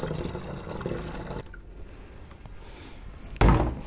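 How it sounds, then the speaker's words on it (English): Distilled water pours into an empty one-gallon container, a soft close splashing trickle that quiets partway through, followed by a brief louder clunk near the end. "Come back in here, fill our empty 1 gallon container."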